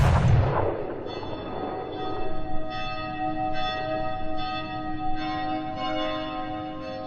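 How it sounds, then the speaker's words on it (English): A cannon fires once from the battlements of Edinburgh Castle to celebrate a royal birth, a deep boom at the start that fades into a long ringing of bell-like tones, with no talking. "On the battlements of Edinburgh Castle, men are loading the cannon to celebrate the birth of Mary's child."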